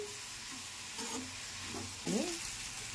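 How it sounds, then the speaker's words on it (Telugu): Green chillies, curry leaves and onion frying in oil in a pan for an egg curry, a steady close sizzle with a brief stir and spatula scrape near the end. "పచ్చిమిరపకాయలు, కరివేపాకు, ఉల్లి బాగా వేగాలి."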